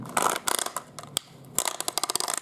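A blue toy construction vehicle is turned around on its base, giving rapid plastic ratcheting clicks in irregular bursts, close up with a short pause midway.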